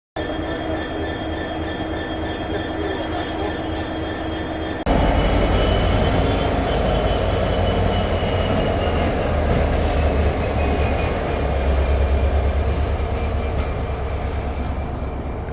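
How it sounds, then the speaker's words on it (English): A train rumbles steadily through Stirling station, with a high hum and faint squealing wheels, growing louder midway as it passes close by. "I'll show you some pictures of trains passing through Stirling"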